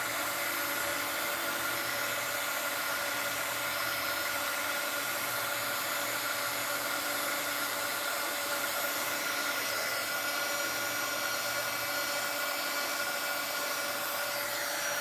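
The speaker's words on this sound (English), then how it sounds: "I'm going to take my heat gun and turn it on" Heat gun blowing steadily to melt sealing wax on a spoon, a loud continuous whirring roar of fan and air that holds an even pitch throughout with no talking.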